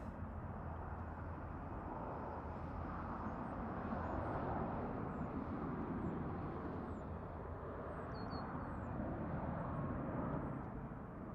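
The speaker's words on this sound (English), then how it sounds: "There's the A320 takeoff." Airbus A320 taking off at Toronto Pearson airport, a steady broad jet engine roar heard from a distance, holding level and fairly faint with birds chirping faintly over it.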